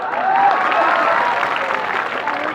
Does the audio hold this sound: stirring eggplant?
no